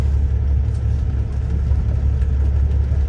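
A Cummins diesel engine in a semi truck runs with a deep, steady rumble just after starting itself, a constant low idle close by.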